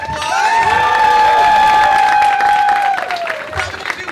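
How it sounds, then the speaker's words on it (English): A convention panel crowd applauds and cheers loudly for the Power Rangers Wild Force cast, a dense wash of clapping with a rising whoop and shouts that hold for a few seconds before tapering off. "can we give them a round of applause?"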